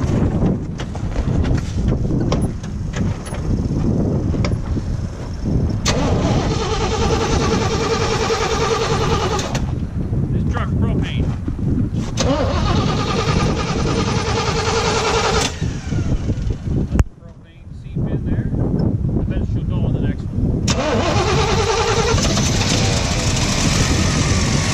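A propane-fuelled engine runs with a steady, rough idle. Its note changes in several stretches and briefly drops out midway before picking back up.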